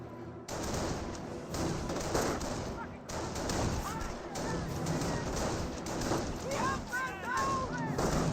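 Rifle and machine-gun fire trade back and forth in a Company of Heroes battle between an American rifleman squad and German Volksgrenadiers, dense overlapping bursts and thuds running throughout at a steady loud level beneath a commentator's voice.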